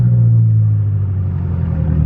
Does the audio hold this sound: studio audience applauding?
no